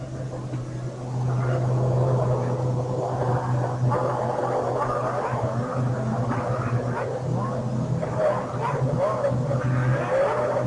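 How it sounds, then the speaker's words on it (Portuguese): Formula 1 cars rolling onto the starting grid at the 1999 Malaysian Grand Prix at Sepang, an engine drone with a steady low hum under continuous commentary, swelling slightly as the cars pass. "os carros vêm chegando para o grid"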